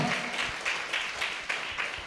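A crowd at a religious gathering claps loudly together, giving a steady rhythmic pulse of beats about four times a second, close and sustained with no speech.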